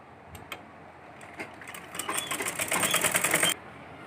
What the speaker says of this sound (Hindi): तो ये हमने इसकी साइड में स्टिचिंग कर दी है।